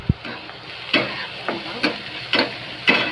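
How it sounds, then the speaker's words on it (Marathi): Onion frying in a pan, a low background sizzle punctuated by about five evenly spaced stirring scrapes, close and moderately loud, with a thump at the start and no talking. "कांदा भाजून द्यायचा. भाजत आला आहे बघा."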